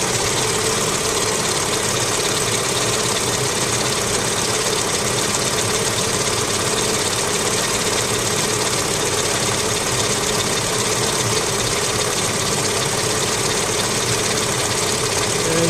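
A car engine idles at about 700 RPM with coolant at 76C, a steady, even hum that carries on unbroken throughout.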